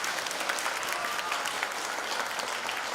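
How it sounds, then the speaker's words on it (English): Audience applause for an elementary school band at a school ribbon-cutting event, a steady, dense patter of clapping from a crowd at moderate distance, fairly soft, lasting the full three seconds with no talk. "Let's give them a round of applause."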